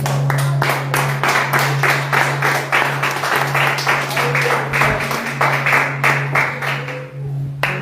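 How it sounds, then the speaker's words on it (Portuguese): A church congregation applauds during an evening service, sustained rhythmic clapping in even beats over a low steady hum, fading slightly toward the end. "aplauda o nome de Jesus"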